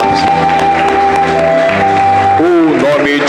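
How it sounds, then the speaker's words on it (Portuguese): A church congregation applauds during a worship service, the clapping dense and sustained beneath music and a voice. "uma linda salva de palmas."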